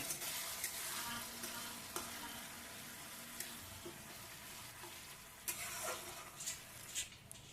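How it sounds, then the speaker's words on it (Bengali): Tomato paste with ginger garlic frying in a pan, a soft continuous sizzle broken by several sharp spatula scrapes and knocks, quiet and close. "টমেটোটাও একটু ভালোভাবে কষিয়ে নিচ্ছি"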